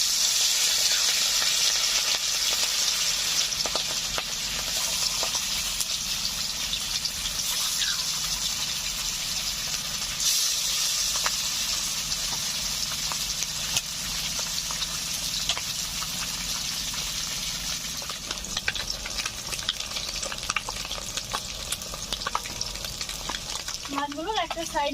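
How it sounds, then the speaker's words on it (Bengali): Katla fish frying in mustard oil in a kadai over a village stove, with a steady, dense sizzle that holds throughout and is close, broken only by a few faint scrapes near the end. "রাখা মাছগুলোকে ভেজে নিচ্ছি"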